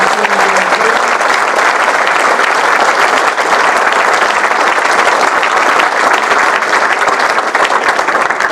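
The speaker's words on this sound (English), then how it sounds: "a big round of applause for President Armbruster and Dr. Hector de Jesus Ruiz" A big audience claps loud and dense at a civic event in Utica, a steady wash of hands that holds at full strength throughout.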